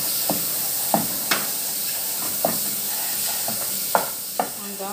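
Butter melting and sizzling in a pan for macarona béchamel sauce, a steady hiss broken by repeated sharp clicks of a utensil stirring against the pan, close up with no talking.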